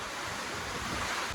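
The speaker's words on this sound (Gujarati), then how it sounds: "પવન વાવાઝોડું ઉપડું છે" Strong storm wind roars steadily in a brief, continuous gust, buffeting the microphone with a rough, even rush during a summer storm bringing hail and heavy rain.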